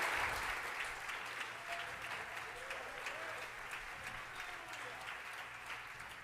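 A church congregation applauds during a Portuguese-language sermon, a dense wash of clapping that starts strong and slowly tapers, with faint voices underneath.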